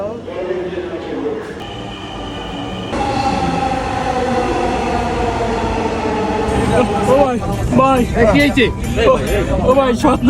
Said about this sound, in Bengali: অবশেষে মেট্রো রেলে করে চলে আসছি দিয়াবাড়িতে